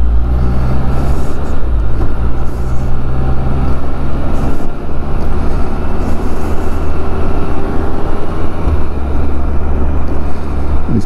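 Can-Am Spyder three-wheeler on a winding road, heard as a steady loud engine drone with heavy wind rush and small changes in pitch as the rider tries to shift down.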